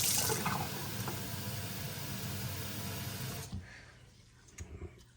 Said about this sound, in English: And then add a bit of water.